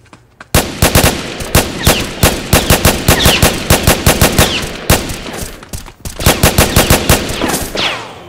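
Rapid gunfire from a Roblox 1v1 shooter match rings out in dense, loud bursts of repeated shots with short pauses between.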